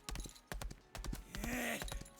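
Horse hooves clip-clop in a steady walking rhythm in a video game, close and clear, with a brief whinny-like tone partway through.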